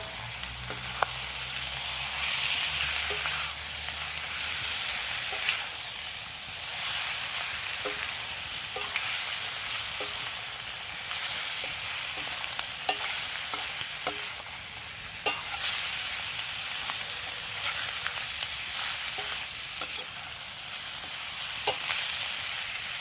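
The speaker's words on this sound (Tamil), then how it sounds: "இப்போ நம்ம சிக்கன் சேர்த்திக்கலாம்." Broiler chicken pieces fry steadily in a pan for curry leaves chicken curry, a continuous broad sizzle with scattered crackles and pops running the whole time, close and alone with no talk.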